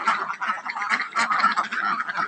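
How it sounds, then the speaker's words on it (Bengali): Farm ducks quacking close by, a dense, overlapping chorus of nasal calls in quick irregular bursts that fills the whole moment without talk. "এগুলো গত বছরের হাঁস।"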